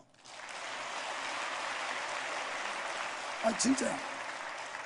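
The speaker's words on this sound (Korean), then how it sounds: "박수 한번 해줘요" Church congregation applauding a choir, a dense steady wash of clapping that starts abruptly and holds throughout, with a man's brief exclamation heard over it near the end.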